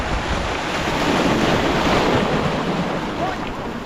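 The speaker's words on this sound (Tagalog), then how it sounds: "Lumalakas yung ano, yung salpok ng alon." Sea waves crash and surge steadily onto the shore, loud and close, mixed with strong wind rumble against the microphone, and no clear speech over it.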